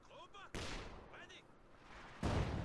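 Support gun in the World War II strategy game Company of Heroes 2 firing on commandos, two loud booming blasts about two seconds apart over a backdrop of battlefield noise and faint tonal effects.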